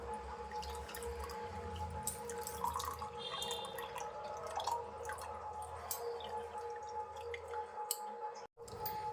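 Whey water draining from freshly made paneer chhena curdled with vinegar, a continuous close trickle and dripping of liquid with faint squishes, steady throughout with no talking.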